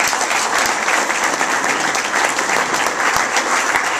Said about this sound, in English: those guys all deserve a big round of applause